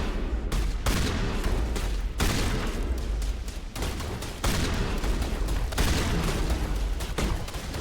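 Repeated shotgun blasts in Mass Effect Legendary Edition, loud and close, firing in quick irregular bursts throughout the combat with no talk.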